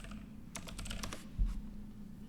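Quick, light clicks of typing on a computer keyboard come in a short burst near the start, followed by a single heavier key thump, all faint and close with no voices.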